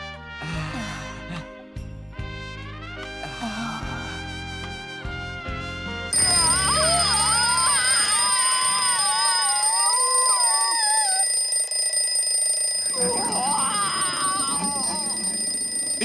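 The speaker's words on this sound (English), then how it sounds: "Interrupted by the ringing alarm clock" A bright, continuous ringing bell blares loudly and steadily, following a few seconds of playful music.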